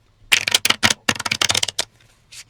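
APBA soccer card decks being shuffled by hand, a close crisp riffling flutter in two quick bursts, followed by a short faint tap.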